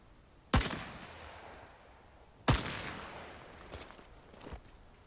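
A heavy gun fires in Rising Storm 2: Vietnam, two loud booming shots about two seconds apart with long decaying echoes, followed by fainter distant thumps.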